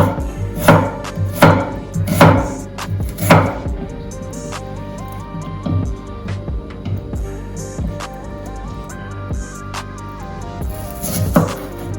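Knife chopping a piece of sweet pepper on a cutting board, a few sharp knocks at the start, then lighter scattered cuts and a final burst near the end, over faint background music.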